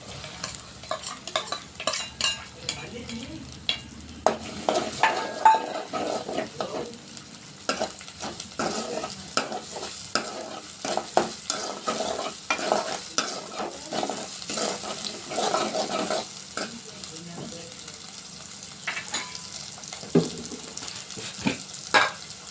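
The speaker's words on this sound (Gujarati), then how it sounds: "અને હવે ડુંગળી નાખી દઈશું." Chopped onion sizzles in a hot pan for a homemade sandwich filling, a steady frying hiss broken by frequent scraping and clinking strokes of a stirring spoon, close up with no talking.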